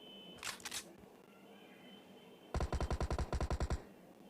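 Gunfire in the mobile battle royale game PUBG Mobile: a short burst of a few shots, then a rapid automatic burst of about a dozen rounds, fairly close and loud over quiet background.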